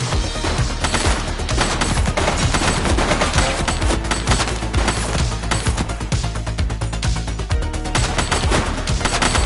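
Dense, sustained gunfire from The Precinct video game, rapid automatic bursts packed together into a loud, unbroken barrage lasting throughout.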